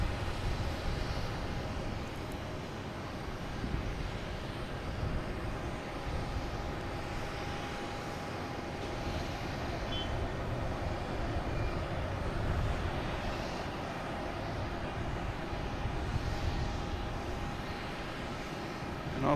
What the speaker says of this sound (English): we have Delta coming in from Newark in E175